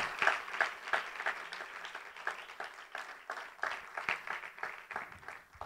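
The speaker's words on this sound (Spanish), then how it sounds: "Puede dar un aplauso al Señor por este hombre" A church congregation applauding during a sermon, scattered, uneven clapping from a modest crowd, with distinct individual claps rising and falling in loose waves rather than a solid roar.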